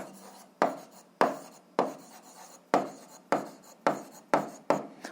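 A pen or chalk writes a fraction by hand for a seventh-grade algebra exercise, with eight crisp, evenly spaced scratching strokes, each fading quickly, close and clear with no talk.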